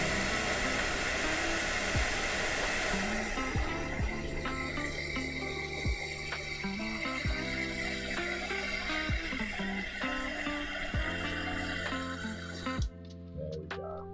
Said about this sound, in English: You dry it? Hair dryer.